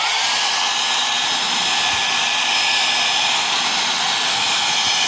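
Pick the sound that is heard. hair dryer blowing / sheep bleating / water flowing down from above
hair dryer blowing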